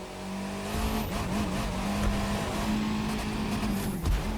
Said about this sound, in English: Up next, we've got the yellow car monster truck.